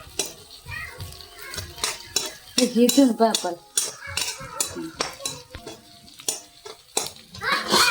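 A metal spoon scrapes and clinks against a pan while mutton gravy, onion and curry leaves are sautéed and stirred in a village kitchen, with light sizzling underneath and children's voices chattering nearby.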